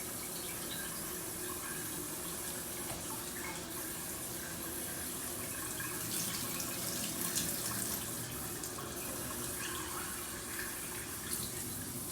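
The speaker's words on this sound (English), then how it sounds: "First, we'll just run the regular tap water." Steady tap water runs from a sink faucet, a continuous broadband hiss and splash holding at an even level throughout with no talking.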